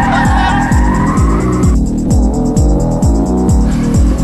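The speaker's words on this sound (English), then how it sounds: "Setting up the drift now. Brake, second gear, turn in." A Honda NSX drifts with its engine revving in rhythmic surges while the tires squeal loudly and continuously, close and dominant throughout.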